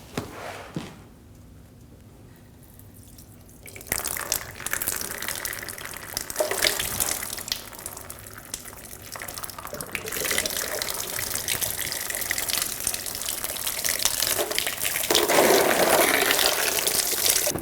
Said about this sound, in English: Let all the fluid drain out of the radiator.